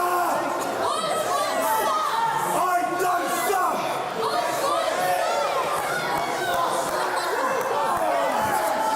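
A wrestling crowd at a 2015 match cheers and chatters in a dense, continuous wall of overlapping voices, whoops and shouts. It stays loud and close throughout, with no single voice standing out.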